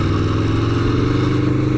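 Aprilia Tuono V4 1100 motorcycle engine running with a rough, vibey mechanical clatter, a steady loud drone of low harmonics with no pauses and no talking.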